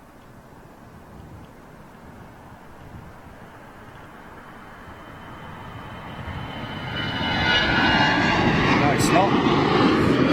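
A jet airliner powered by CFM56 engines at London Heathrow, its roar swelling from a distant rumble to a loud, close pass in the second half, with a person speaking briefly over it.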